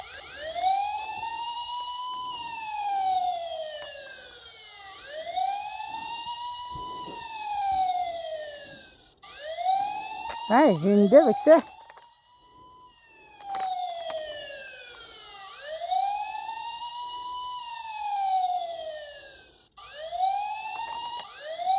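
A device emits a repeating wailing siren that rises and falls in regular sweeps, steady and fairly loud, briefly interrupted by a burst of handling noise, with a short French remark in the background.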